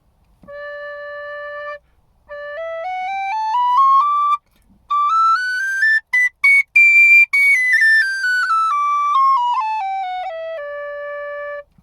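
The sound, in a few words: high D whistle playing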